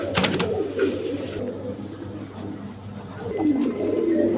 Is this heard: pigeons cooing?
yes